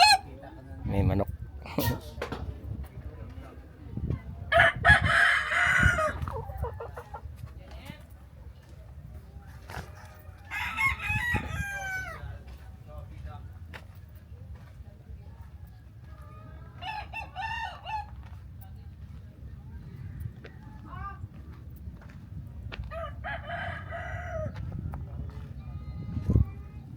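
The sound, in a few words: chickens and roosters crowing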